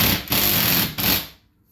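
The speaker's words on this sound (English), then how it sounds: "we're going to put these screws in" A power drill drives screws into drywall in two short, loud whirring bursts separated by a brief dip. It then cuts off into near silence.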